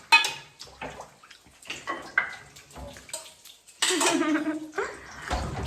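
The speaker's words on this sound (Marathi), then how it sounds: "नीट भांडी घास" Dishes clatter and clink in a sink, followed by a burst of running water, with voices talking nearby.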